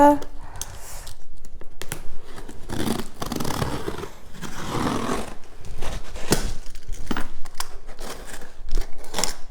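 Small parcel being opened: crinkling, tearing and snipping packaging noises in irregular bursts, close and moderately loud.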